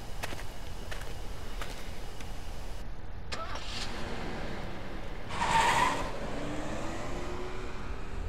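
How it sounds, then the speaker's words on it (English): Car driving through a dark forest in the horror video game Death Mark, a steady low engine rumble with broadband road noise throughout, a brighter whoosh swelling briefly near the end. "We begin driving back to the mansion."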